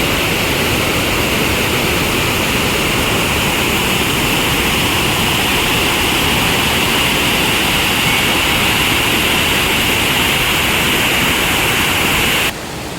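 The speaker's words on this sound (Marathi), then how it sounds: "हा धबधबा थोडा फेमस आहे." A famous waterfall near Dhutpapeshwar Temple in the Konkan roars steadily and loudly, a dense continuous rush of falling water with no voices heard over it.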